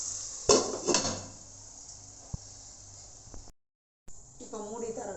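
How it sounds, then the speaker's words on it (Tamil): A metal pot lid set over a pan of sautéing tomatoes: two close clattering knocks at the start, a faint clink, then a soft hiss, with a voice speaking briefly near the end. "இப்போ தக்காளி வதங்கிறதுக்கு கொஞ்ச நேரம் ஒரு 5 நிமிஷம் மூடி வைக்கலாம்."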